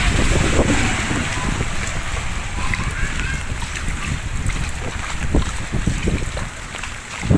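A motorcycle speeds through flooded street water in Santa Rosa, Laguna, after a typhoon, with loud splashing and spray over a steady engine rumble that swells and fades.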